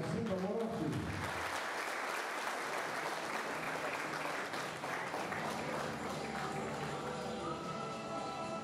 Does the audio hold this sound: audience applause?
yes